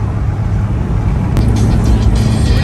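Toyota AE86 with a 4A-GC engine warming up at high idle on a Sunday morning in Burbank, California: a steady, close low rumble that stays even throughout, with one brief sharp click partway through and no voices.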